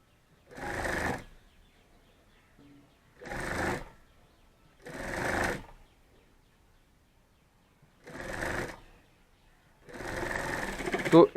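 A sewing machine stitches the side seam of a cheap bag in five short bursts of whirring, each a second or so long, separated by quiet pauses, close and fairly loud.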